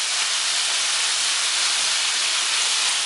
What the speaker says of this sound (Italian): Lasciamo rosolare per qualche minuto finché le nostre zucchine non saranno un pochino dorate.